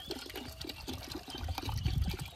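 Liquid poured into a pan while fish is cooked outdoors, a soft continuous watery splashing and trickling that grows fuller toward the end.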